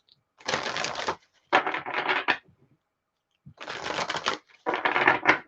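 Tarot cards being shuffled by hand in four crisp riffling bursts separated by short pauses, close and fairly quiet, with no talking.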